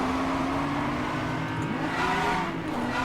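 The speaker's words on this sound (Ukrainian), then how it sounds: "Ось пробуксовочка. І поїхали." A car in Need for Speed: Hot Pursuit (2010) spins its wheels and accelerates, a continuous loud engine drone with rising tonal whine across the short stretch.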